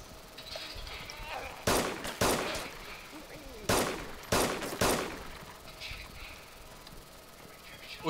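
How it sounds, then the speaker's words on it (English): A pistol fires in the survival game DayZ: five sharp, loud shots come in two close groups, with quiet ambient background between them. "With what are you shooting? With my pistol."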